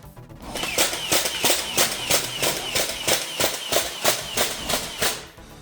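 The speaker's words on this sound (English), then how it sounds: "I'm just gonna show you what happens when I try to shoot from an alternate ammo clip" A Nerf Slingfire blaster fires from an alternate ammo clip, giving a rapid, steady run of about fourteen sharp, close snapping clicks with no talking.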